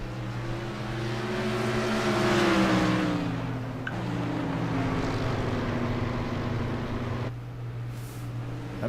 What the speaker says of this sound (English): Everyone's concentrating on driving their cars.